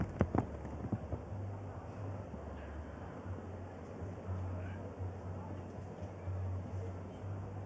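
A ten-year-old Dutch horse's hooves at a show jumping Grand Prix in Verbier, 2016: a few sharp thuds come early, then soft faint footfalls over a low ambient murmur of the arena.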